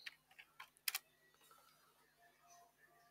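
Computer keyboard typing of a web address into a browser tab: a few quiet, scattered key clicks in the first second, then faint low hum with light residual noise.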